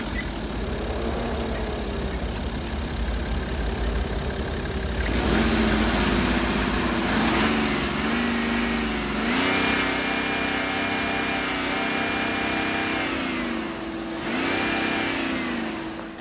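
A 2014 BMW 730 LD six-cylinder diesel, 256 bhp, runs steadily at close range, its engine note rising and falling through several revs over an idle.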